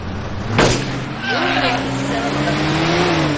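A green jeep driving in the video game DayZ, a steady engine drone with a brief whoosh and rising pitch as it accelerates, while voices talk over it.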